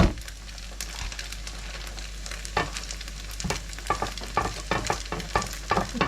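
Erişte noodles frying in a pan of hot oil, turned with a spatula: a steady close sizzle with repeated scraping and clattering stirs over it, no voices.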